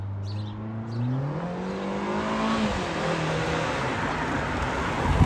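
A car engine rises in pitch as it accelerates, approaching and roaring past with a whooshing rush, getting louder toward the end.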